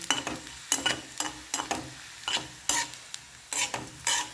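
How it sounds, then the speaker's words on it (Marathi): Bombay duck fish roasts in a pan on low heat, with a soft sizzle cut by a regular series of scraping, rasping strokes as the fish is turned and pressed, close and fairly loud. "खूप जास्त फास्ट गॅसवर बोंबील भाजले तर ते कडसळ लागतात त्यामुळे मंद आचेवर बोंबील भाजून घ्यायची"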